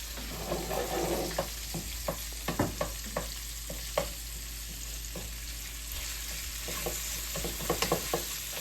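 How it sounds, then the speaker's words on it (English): Salmon being shredded with a utensil and frying in a pan for egg rolls, a steady close sizzle broken by irregular scraping and stirring clicks throughout, with no talking. "Now we're going to shred the salmon in the pan."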